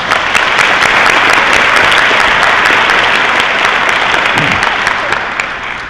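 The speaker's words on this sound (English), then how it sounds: "Let's give them a round of applause." An audience at a small business engagement event gives a full, steady round of applause that stays dense and loud throughout, tapering slightly at the end.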